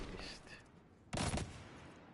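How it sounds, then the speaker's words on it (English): A single sharp, loud shotgun blast from the game Destiny 2 cuts in partway through, preceded by quieter in-game tones and followed by a fading low tail. "Shotgun."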